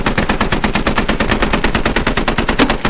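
Rapid automatic gunfire in a first-person military shooter game, a loud, close, unbroken string of roughly nine shots per second, with no talking.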